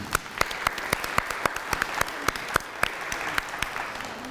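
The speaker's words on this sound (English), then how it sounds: "we have a warm round of applause for that person." A small school audience at a lunch talk gives a warm round of applause, with sharp, fairly sparse claps standing out over a soft wash of room noise, steady and close throughout.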